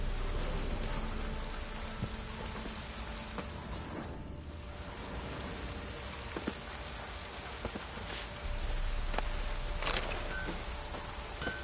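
Steady light rain drizzles in a video game, a continuous soft hiss of drops holding even throughout with a few faint clicks and no talking.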